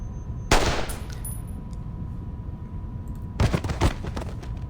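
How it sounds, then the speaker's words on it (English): Gunfire in the video game Reverse 1999 comes as two loud bursts, a sharp shot followed a few seconds later by a second cluster of quick cracks over a low rumbling background. "The gunshot finally hits true."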